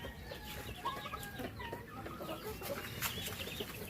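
Rhode Island chickens and chicks cluck and peep steadily while feeding on vegetables, a busy close flock chatter with a brief higher chirp near the end and no voices.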